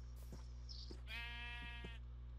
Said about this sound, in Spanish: Y no hay cerditos por aquí, hay puras ovejas.